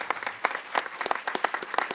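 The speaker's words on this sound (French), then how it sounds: "vous pouvez les applaudir très fort" An audience at an opening plenary session of a business conference claps. Distinct, sharp individual claps form a loose, uneven rhythm of moderate loudness, with no talk over them.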